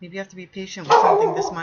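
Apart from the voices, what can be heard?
dogs barking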